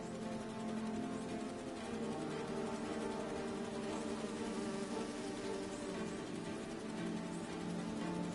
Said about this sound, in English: You're not gonna mess with my bees.